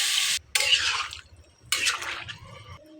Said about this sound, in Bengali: তো এখন আমি গরম জল দিয়ে দিলাম।